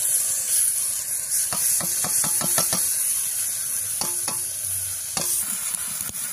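Ground cumin, coriander and dried chili pastes fry in a pan for a Bengali soybean and taro dish, under a constant high sizzle and hiss punctuated by a run of sharp spoon clicks and scrapes against the pan.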